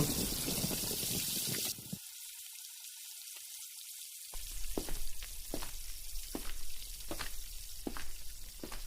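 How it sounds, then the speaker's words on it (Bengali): Potato chops fry in hot oil on a rainy morning at a village house, a close hissing sizzle with regular bursts of spattering, briefly dropping away before resuming strongly, with no voices. "রুহুল চাচার বাড়িতে গরম আলুর চপ ভাজা হচ্ছিল"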